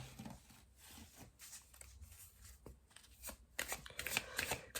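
Oracle cards are shuffled by hand in quick riffling bursts, soft and close, growing busier toward the end with no talking.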